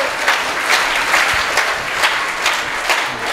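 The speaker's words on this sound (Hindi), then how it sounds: "अगर हम ताली भी नहीं बजा सकते" Audience applause at a Jain religious gathering with a maha aarti in Mayur Vihar, a steady, dense wave of many hands clapping, loud and close, with no voices over it.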